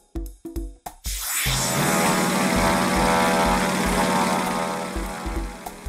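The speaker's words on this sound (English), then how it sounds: "The airplane." A propeller airplane engine roars up after a few short clicks, holding a steady loud drone that fades slightly toward the end, with no voices.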